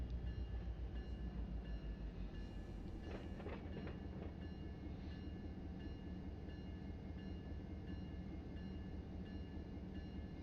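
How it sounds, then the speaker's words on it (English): A train rolls through in the Run 8 train simulator, a steady low rumble with clickety-clack of wagons and a brief burst of louder rattling early on, heard alone. "There's a train that's coming in."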